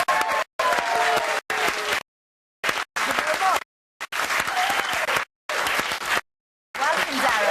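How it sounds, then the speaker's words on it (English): Studio audience of a television chat show applauding: loud, full clapping and cheering that cuts in and out in choppy bursts separated by short silent gaps. "let's continue the applause and welcome Derren Brown."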